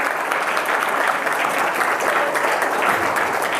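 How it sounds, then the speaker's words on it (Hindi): Students clap steadily for a winning team at a school general-knowledge quiz on Constitution Day, a dense, sustained round of applause that stays fairly loud throughout. "वेरी गुड, ताली बजा दो इनके लिए।"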